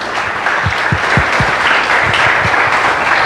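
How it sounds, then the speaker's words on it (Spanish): Loud applause from an audience, continuous clapping with a few sharper individual claps standing out near the start. "De nuevo, por favor, el aplauso."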